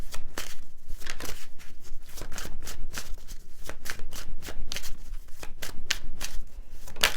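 A deck of tarot cards being shuffled continuously, with rapid riffling and snapping bursts in a steady rhythm, close and fairly loud with no talking.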